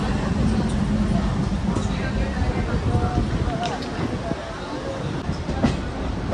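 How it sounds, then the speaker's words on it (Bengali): A Howrah–Tarakeswar local train pulls out of Howrah station with a steady rumble and rhythmic wheel clatter heard from inside the carriage, while passengers chatter throughout. "হাওড়া স্টেশন থেকে ছেড়ে দিয়েছে আমাদের ট্রেন।"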